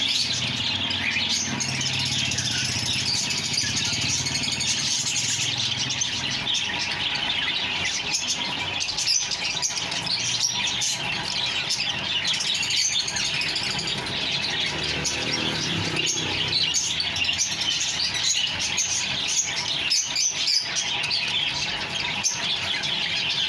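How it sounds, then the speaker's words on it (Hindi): Australian parrots and cockatiels chatter and squawk together at a bird market, a dense, continuous mass of shrill chirps and calls that stays busy and fairly close throughout. "ये ऑस्ट्रेलियन तोते सस्ते होते हैं। ये सारे इतना शोर मचा रहे हैं।"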